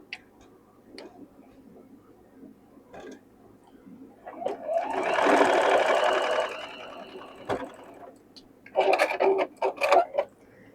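A sewing machine stitches quilt blocks in a burst of fast, steady whirring lasting a few seconds. Short bursts follow it, set among quieter handling taps and clicks.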